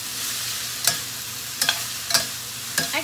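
Vegetable chow mein noodles stir-fried in a small pot, a soft steady sizzle broken by four sharp scraping clacks of a utensil against the metal, spaced irregularly, with no talk.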